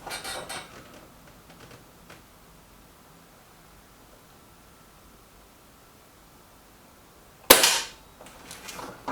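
A single sharp crack from a Reximex Regime air rifle rings out near the end after a long quiet stretch, followed by a brief metallic rattle.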